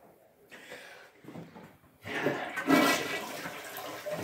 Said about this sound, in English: Flush it and then go again.